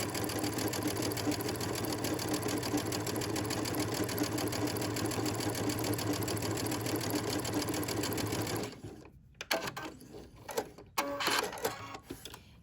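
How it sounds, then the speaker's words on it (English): Sewing machine fitted with a pintuck foot stitching corded pintucks, running loud and steady with a rapid even needle rhythm for about nine seconds, then stopping, followed by scattered handling clicks and rustles. "And then I'm just gonna take some stitches."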